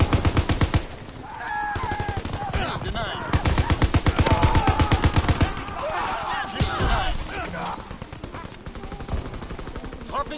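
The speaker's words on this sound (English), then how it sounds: "I think this is a machine gun." Rapid bursts of machine-gun fire from a PS4 shooter game, loud and repeated in dense volleys with short pauses, under occasional in-game noise and talk.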